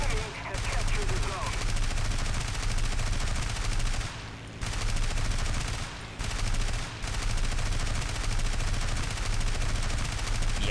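War Thunder gunfire: loud, sustained rapid machine-gun bursts hammer on with a few brief pauses between strings of shots.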